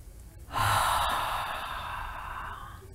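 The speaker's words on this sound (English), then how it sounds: "Breathing in through the nose." During a yoga breathing exercise, a single long inhale through the nose begins suddenly as a close, breathy rush and then slowly tapers off over a couple of seconds.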